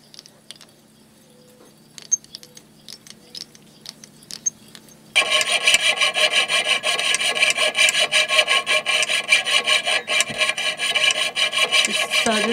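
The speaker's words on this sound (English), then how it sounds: "I'll use my jeweler's saw to take it out from there" After a few quiet taps and clicks, a fine jeweler's saw starts rasping rapidly and steadily through metal while making a knife, close and continuous.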